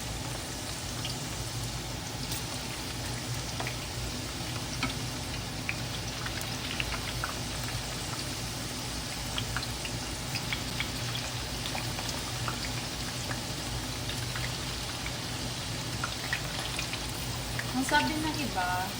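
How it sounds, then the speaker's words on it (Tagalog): Beef for kaldereta frying in a pan, a steady dense sizzle and crackle that holds evenly throughout. "Kaya naman natin sila pinipirito para hindi agad mapanis kung lulutuin natin kaldereta."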